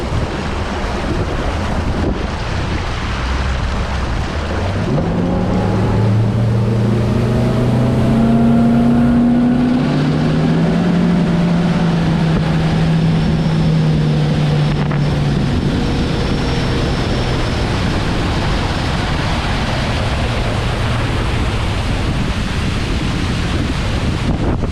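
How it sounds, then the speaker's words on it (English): A Phoenix 921 Elite boat with a Mercury V8 four-stroke outboard, trimmed all the way down, launches at full throttle onto plane. The engine's tone climbs and then eases under a loud, steady roar of wind and rushing water, with no talk. "we're gonna do the whole shot test right now, trimmed all the way down, pedal to the metal, and see how fast it can get on plane"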